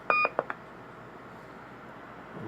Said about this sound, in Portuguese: Roger Bip volume normal.